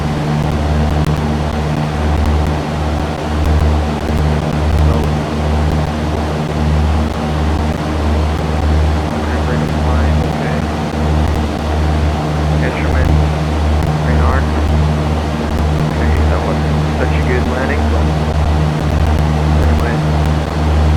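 The engine of a Cessna 172 at full power during takeoff in X-Plane 11 gives a loud, steady, low droning hum throughout, with a voice talking over it.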